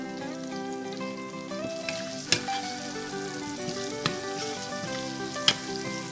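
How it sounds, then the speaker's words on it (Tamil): Chopped small shallots fry in a pan of oil for a Tamil fish curry, a steady close sizzle with a few sharp pops and crackles standing out. "வெங்காயம் நல்லா வதங்கட்டும்."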